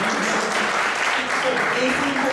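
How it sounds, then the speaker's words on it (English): An audience at an innovation contest event bursts into a full round of applause, a thick continuous clatter of many hands with some murmured voices mixed underneath. "Let's give a big round of applause to Holly Butler for all she does for us all the time."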